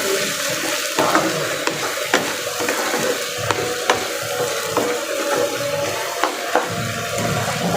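Spices for pulao sizzle and sauté in a pan, with a constant frying hiss broken by repeated scraping strokes as they are stirred.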